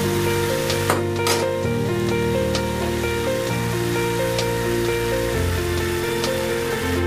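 Milk pieces frying in hot oil as a fried milk snack, giving a steady, close, continuous sizzle with faint stirring throughout.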